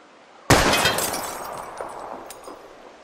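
A gunshot in Life Is Strange strikes a wheel rim, giving a sharp, loud crack followed by a bright shattering, ringing tail that decays over a couple of seconds.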